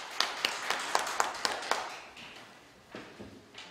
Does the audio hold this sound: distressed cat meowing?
no